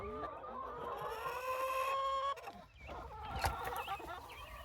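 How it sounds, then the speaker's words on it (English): Broody hens in a chicken coop cluck and croon in drawn-out, warbling notes, fairly faint and close, followed by a few sharper clucks and rustling. "So many broody hens, so little time."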